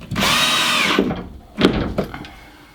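Power drill driving a metal screw into the steel floor plate of a shipping container house: a close whining buzz of about a second, then two short bursts with thuds.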